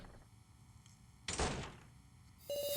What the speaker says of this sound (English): Yeah, the door closed